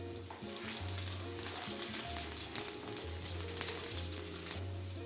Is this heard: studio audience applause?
no